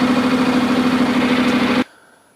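A Honda NC700X motorcycle engine idles steadily while warming up after new spark plugs, a close, even rumble that cuts off abruptly near the end, leaving near silence.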